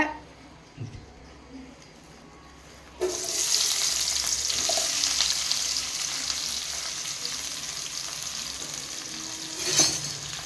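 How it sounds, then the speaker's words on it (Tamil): Onion and curry leaves dropped into hot oil, a quiet start then a sudden loud burst of sizzling that settles into a steady crackling fry, with a clunk near the end. "வெங்காயம் கருவேப்பிலை போட்டாச்சுங்க. வணக்கி விட்டுக்குங்க."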